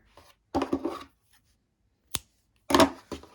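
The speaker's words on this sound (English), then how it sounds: "Now cut your yarn here." Scissors cut crochet yarn close by, with two short clusters of crisp snipping and rustling and a single sharp click between them, set against near silence.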